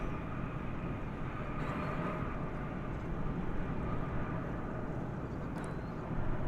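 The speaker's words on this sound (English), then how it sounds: "you hear the roar of the next plane" Sustained broadband roar of a Boeing 737-800 passenger jet taking off at DFW Airport, a steady continuous rumble that stays loud and even throughout with no talk over it.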